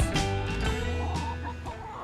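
Backyard chickens clucking near a roost, a steady stream of overlapping clucks and soft calls, fairly close and continuous throughout.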